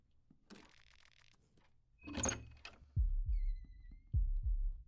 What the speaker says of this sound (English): My heartbeat. I can hear my heartbeat. Oh no. It's not actually my heartbeat. A pressure plate.